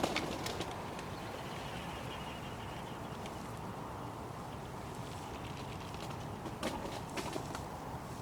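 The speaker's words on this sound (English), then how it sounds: "Something spooked all the pigeons out of the tree behind me." Wood pigeons burst out of a tree on a foggy morning, several sharp wing-clatter bursts scattered at a moderate distance over a quiet outdoor hush.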